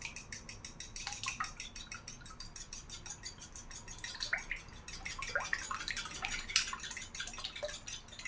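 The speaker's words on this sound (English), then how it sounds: "And you can put in some pepper, just a little bit, and beat the eggs." Eggs with a little pepper beaten in a bowl for a Chinese sausage omelette: quiet, rapid, even clicking and tapping of the utensil against the bowl, heard alone.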